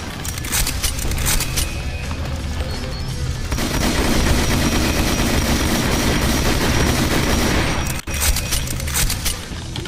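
Dual pistols fire in Project Brutality, a Doom mod video game, in a dense, loud barrage of rapid shots, explosions and crashes that runs through the whole stretch.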